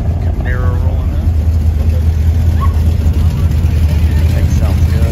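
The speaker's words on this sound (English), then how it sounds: "Camaro rolling in." A Chevrolet Camaro rolls in at a Cars and Coffee meet in Charlotte, its steady low engine rumble loud and close throughout, with voices in the background.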